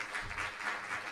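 Audience applause at a school district board meeting: a brief, even wash of clapping from a room full of people, moderately distant.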